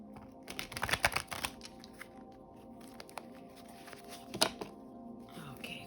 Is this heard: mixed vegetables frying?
no